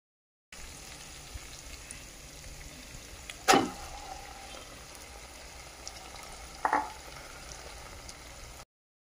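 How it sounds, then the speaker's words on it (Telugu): Marinated chicken frying with softened tomato for chicken dum biryani, a steady soft sizzle with two brief louder scraping clatters of stirring, no talk. "ఇప్పుడు వీటన్నిటిని ఈ విధంగా కలుపుకుంటూ మధ్య మధ్యలో కలిపెడుతూ చికెన్ని ఫ్రై చేసుకోవాలి"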